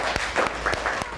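Classroom applause after a student's talk about the Holi festival, a short patter of a few hands clapping unevenly, close and fairly loud.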